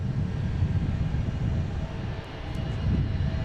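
An airplane on its takeoff roll gives a loud, steady engine roar and rumble, building slightly toward the end, heard without talk.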